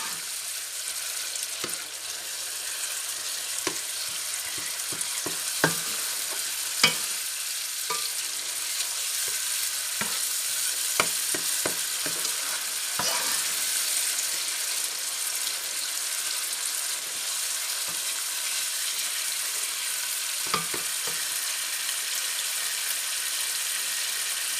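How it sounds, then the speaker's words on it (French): Tomatoes crushed and stirred in a hot pan while cooking salted fish with cabbage, a steady sizzle with scattered scraping knocks and stirring clicks throughout, no talking. "ici, j'écrase la tomate. Vous voyez que ça a bien cuit."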